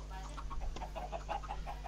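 Chickens in the game Minecraft cluck in a string of short, soft calls through the clip, set low against a steady background hum, with faint game noise alongside.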